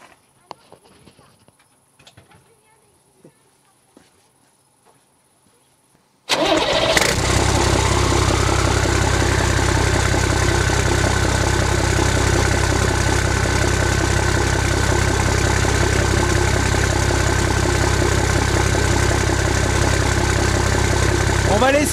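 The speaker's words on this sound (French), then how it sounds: "je vais aller vous faire écouter le bruit du moteur" A 4x4's engine is started after several seconds of near-silence broken by small clicks and handling noises, then settles into a loud, steady idle with a constant rumbling drone close to the microphone.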